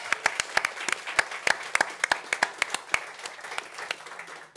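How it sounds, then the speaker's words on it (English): A crowd claps for the Irish athletics delegation ahead of the World Athletics Championships, brisk and fairly close, with distinct loud individual claps over a thinner bed of applause that gradually tapers off. "Can we give them a big 123.ie round of applause?"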